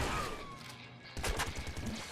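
Grenade launcher blasts and explosions in the Nuclear Throne video game make dense, crackling game noise, with a sharp burst of explosions about halfway through.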